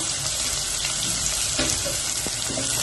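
Finely chopped onion frying in hot oil in a pan for white sauce macaroni, a loud, dense, steady sizzle with faint stirring clicks and no speech.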